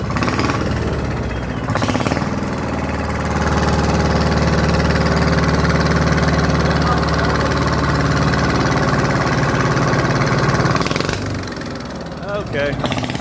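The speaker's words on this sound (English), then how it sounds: "This is a diesel engine on here." A diesel engine idles close by, with a steady low rumble and a rattling, jackhammer-like chug that runs without a break for most of the stretch. Muffled voices can be heard faintly under it.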